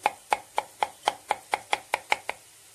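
A knife chops garlic on a board in about eleven quick, even strokes, each a crisp close tap, with no voices.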